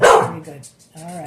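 A small pet dog barks and whines to be let outside, giving a short complaining yip in the background while a person talks over it nearby.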